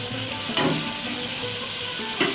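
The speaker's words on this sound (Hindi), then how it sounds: "अब हमारा अदरक लहसुन अच्छी तरह से भुन चुका है।" Steady frying sizzle of ginger and garlic in a pan, crackling continuously with a couple of brief louder bursts, no voices.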